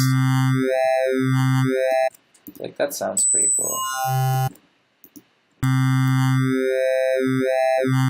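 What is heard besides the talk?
wavetable synthesizer sound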